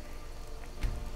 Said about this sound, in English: I hate the rain, though.